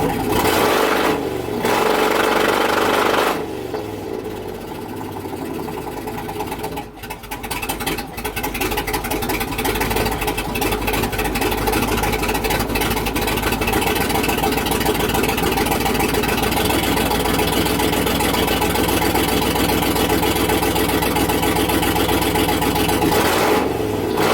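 A Chevy 6.0L truck engine with a misfire idles loudly and roughly, with an uneven, faltering rhythm and a brief dip partway before it settles into a steady rumble.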